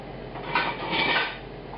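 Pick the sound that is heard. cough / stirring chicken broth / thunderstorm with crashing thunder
stirring chicken broth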